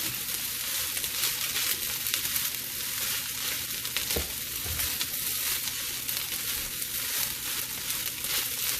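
Chicken fried rice ingredients being stirred in a hot pan give off a steady, dense sizzle, with a soft scrape of the utensil partway through and no talking.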